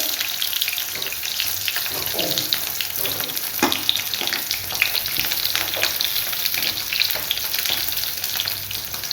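Potatoes frying in hot oil in a pan for a vegetarian aloo dum, turmeric sprinkled over them: a loud, steady, dense sizzle with crackle and occasional stirring scrapes, constant throughout with no voices.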